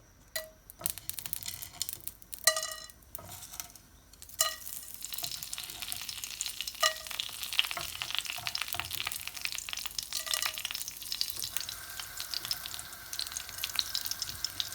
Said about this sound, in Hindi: अब इसमें मैं प्याज डाल के हल्की सी फ्राई कर लेती हूँ।